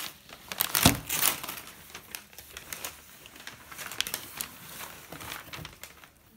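A gift box gets opened at home, with tape pulled off and paper crinkling in crisp, close bursts, loudest early and then continuing in smaller rustles and rips.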